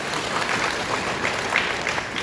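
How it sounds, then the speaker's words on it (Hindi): A church congregation applauding at a sermon, a sustained wash of many hands clapping together, steady and moderately loud, with no speech on top. "एक बार ताली बजाएगा"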